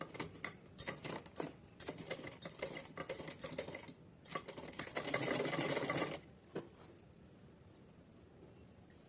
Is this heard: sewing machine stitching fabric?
yes